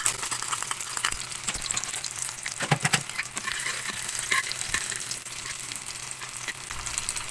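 Eggs fry in a pan for breakfast, a steady close crackling sizzle with bursts of spatter and a few utensil scrapes, with no voices.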